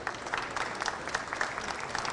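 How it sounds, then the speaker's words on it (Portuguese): Applause from the audience at a meat inspection seminar in Brazil, a fairly faint, steady patter of many hands clapping at a distance with no talk over it. "que eu peço um aplauso aos dois em nome de todos vocês"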